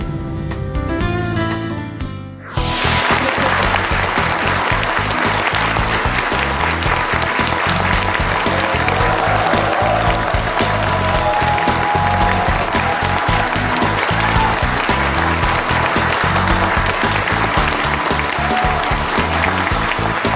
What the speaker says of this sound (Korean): 이렇게 박수를 많이 쳐주시니까 조금 먼저 박수를 받는 일은 좀 부담되는 일입니다.